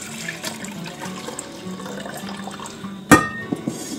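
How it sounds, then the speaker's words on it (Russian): A kitchen tap runs softly while homemade ghee is rinsed under it, a low steady water hiss ending in a sudden loud splash near the end. "Сейчас я прям под краном обмою."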